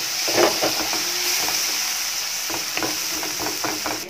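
Onions and tomatoes fry in a pan for a Kerala-style egg curry, a steady close sizzle with soft scraping stirs and light utensil knocks recurring throughout, no voices.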